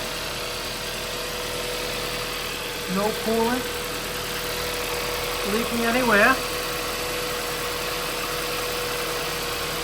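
A newly installed Hyundai/Kia 1.6L car engine idles with a steady low hum throughout, while a person speaks briefly over it.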